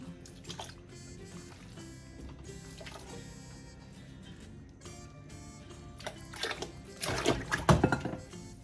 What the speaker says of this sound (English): So let's put all our meat in here.